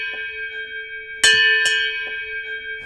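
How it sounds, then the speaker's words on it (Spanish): An intercom bell rings loudly in two sharp, sustained strikes with a steady tonal ring that lingers between and after them, heard alone with no voices. "me encogí al oír el timbre interno sonando con tanta fuerza"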